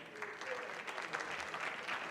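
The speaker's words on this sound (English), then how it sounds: "Give yourselves a round of applause." A crowd applauds at a mayoral debate with steady, dense clapping, somewhat distant and even throughout.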